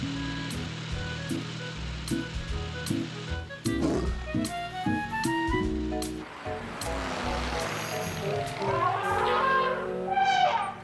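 A cartoon lion roars amid layered animated-show music and effects, with busy overlapping sounds at moderate loudness.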